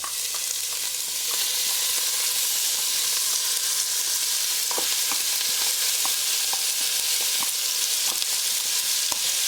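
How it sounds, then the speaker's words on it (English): Mirepoix sizzles in a hot soup pot over medium-high heat for pasta fagioli, a loud constant hiss with frequent sharp crackles and pops. "I'm putting in the mirepoix"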